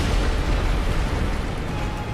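A heavy boss's butt-slam impact in Dark Souls, set in Darkroot Garden, lands as a loud, dense booming crash of noise that stays sustained and rumbling across the whole moment, close and without speech.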